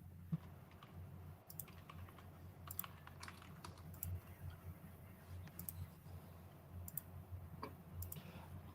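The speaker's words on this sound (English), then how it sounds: "So I'm sat at work typing reports." Someone types reports at work on a computer keyboard, a quiet irregular patter of key clicks with sharper taps now and then. It runs close and fairly soft over a low steady hum, with no talking.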